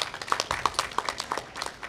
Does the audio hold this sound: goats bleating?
no